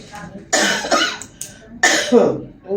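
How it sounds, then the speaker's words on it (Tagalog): Several harsh coughs in quick bursts, close and fairly loud, with short pauses between them and a faint voice in the background. "Ubo ng ubo."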